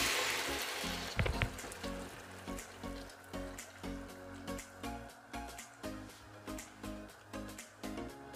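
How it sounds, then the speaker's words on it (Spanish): Hot broth pours into a paella of rice, cod and cauliflower, setting off a loud burst of sizzling that settles into a steady bubbling crackle with a pulsing rhythm, heard alone without talk. "Y le vamos a echar el caldo, que a ser posible que esté muy caliente"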